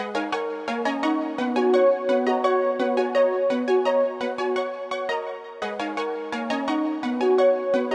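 Layered synthwave synth stabs pulse in a steady repeating rhythm under a melodic synth lead. The pattern loops clearly and loudly with no voices.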